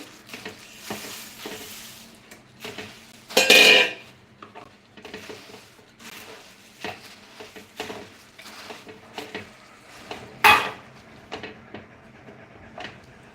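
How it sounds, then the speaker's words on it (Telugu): Roasted puffed rice is stirred into a hot pan of syrup: soft scraping and rustling strokes repeat steadily, with two louder metallic scrapes of the spoon against the pan. "వేడిగా ఉన్నప్పుడే మనం వేయించి పెట్టుకున్న మరమరాలను ఇందులో వేసుకుంటున్నాం"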